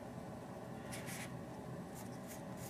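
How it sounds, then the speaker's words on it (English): Pencil or pen drawing a butterfly outline on paper for a May basket craft, a steady soft scratching with a few brighter strokes, close and quiet, with no voices. "Now we need to draw the butterfly shape."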